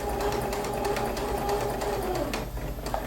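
A sewing machine runs a stay stitch in a fabric seam, humming and chattering steadily at close range for a few seconds before slowing near the end.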